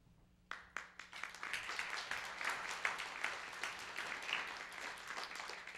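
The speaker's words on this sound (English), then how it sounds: "I appreciate the applause" Audience applause at the Ford Hall Forum's 2010 First Amendment Award ceremony, starting with a few sharp individual claps before swelling into steady, moderately distant clapping from a crowd that continues throughout.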